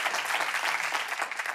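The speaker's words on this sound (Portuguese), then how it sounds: "Uma grande salva de palmas." An audience clapping together in a studio, a dense close burst of applause that holds steady throughout before tapering slightly at the end.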